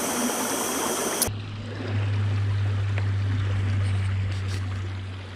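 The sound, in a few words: river running through a valley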